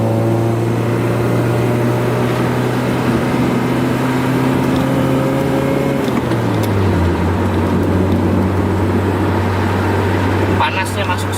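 Engine drone of a Honda Accord Maestro fitted with an F22B1 VTEC engine cruising on a toll road, a steady low hum with a pitch drop partway through as if shifting gear, heard from inside the cabin.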